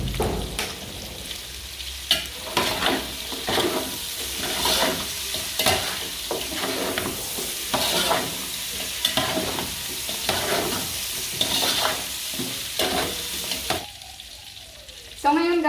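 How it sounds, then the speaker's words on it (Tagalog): Pork belly and chicken feet stir-fried with dark soy sauce, with steady loud sizzling and repeated scraping stirs of a utensil throughout, ending in a brief quieter moment. "nasangkot na natin yung ating pork belly and chicken feet"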